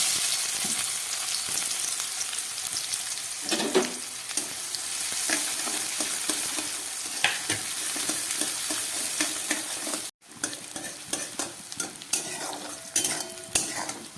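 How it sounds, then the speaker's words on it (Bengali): Nigella seeds and onion frying in hot oil, a steady sizzle with stirring and clinks of a utensil against the pan, close and continuous with a brief drop near the end. "এই গরম তেলের মধ্যে আমি একটু কালো জিরে ফোড়ন দিয়ে দিচ্ছি। সঙ্গে দিয়ে দিচ্ছি একটু পেঁয়াজ।"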